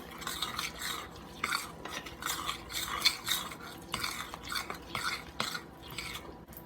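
A spoon stirs drained whole kernel corn into thick corn fritter batter in a bowl, rhythmic wet scraping and soft clinks, close and quiet.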